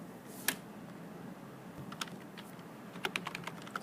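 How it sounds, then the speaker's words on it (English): Keys click on a computer keyboard, starting with a single sharp tap, then a few scattered presses and a quick run of keystrokes at the end, close and quiet. "type in your response"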